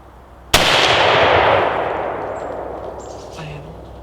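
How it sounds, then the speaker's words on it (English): A single loud rifle shot at a buck deer during a South Carolina hunt cracks sharply and rolls away in a long fading echo, with faint rustling after. "I took the shot and took it down"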